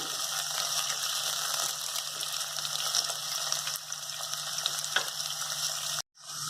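Tomato pieces and dried red chillies fry steadily in a pan and are stirred, a continuous dense sizzle with scraping strokes that cuts off abruptly near the end, no voices.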